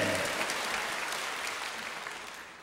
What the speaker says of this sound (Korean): 말씀 되신 주님 앞에 영광의 박수 올려드리겠습니다